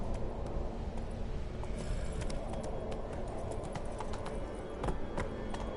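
Roach, the horse in the Witcher 3 game, gallops with rapid, rhythmic hoofbeats that stay steady and close throughout.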